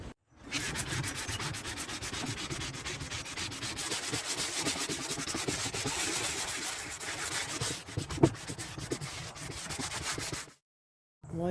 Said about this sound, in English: I'm going to sand outside, not inside